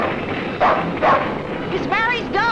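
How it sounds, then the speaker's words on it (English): A dog barks in short bursts in a 1941 film scene, a few sharp yips and barks spread across the moment, close and fairly loud, mixed with agitated voices. "It's Mary's dog."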